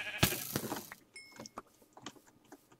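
A sheep bleats once, loud and close, in the TerraFirmaCraft Minecraft mod, followed by several soft clicks and game sound effects with no talking.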